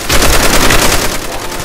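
A Tommy gun in Black Ops 3 zombies fires a loud, unbroken stream of rapid automatic shots, evenly paced and close, lasting the whole short burst.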